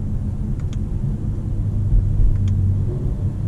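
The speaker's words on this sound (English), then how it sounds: "we're in fifth gear at low RPM. We can downshift." A car engine in fifth gear at low RPM downshifting through paddle shifters gives a steady, close low rumble inside the cabin, with a brief swell in level near the middle.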